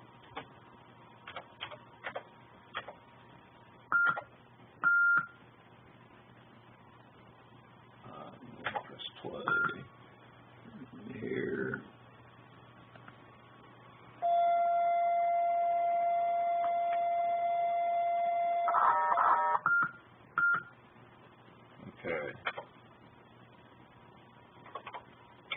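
Scattered clicks and short beeps give way to a steady, high-pitched data tone lasting several seconds, followed by more clicks and brief tones, from a Texas Instruments 99/4A computer cassette interface loading data.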